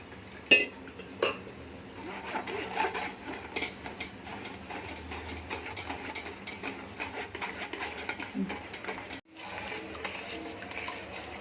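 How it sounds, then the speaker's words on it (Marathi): Tamarind and date paste, blended smooth in a mixer, is pushed through a strainer in a home kitchen, with scraping, light metal clinks and bowl knocks running steadily up close and a sharp clank near the start. "आता ते परत गाळून घेऊया."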